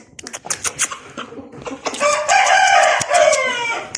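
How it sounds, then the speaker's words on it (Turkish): A hen calls loudly and close by, first in a few short clucks, then a long drawn-out crowing call with harmonic cries, heard on its own. "tavuk çağırıyor"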